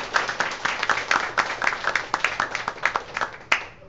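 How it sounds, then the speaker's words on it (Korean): An audience at a startup venture party claps steadily for about four seconds, a moderate round of applause heard from a little distance with no talking. "박수로."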